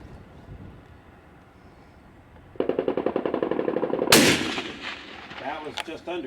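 Spanish FR8 rifle in .308 firing outdoors, a sharp loud report cracking out after a quieter stretch, followed by a rumbling echo that fades.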